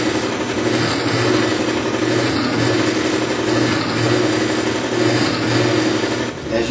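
A lubricity test machine runs steadily, a loud continuous mechanical hum and whir with a slight engine-like drone that holds even throughout, with no talking.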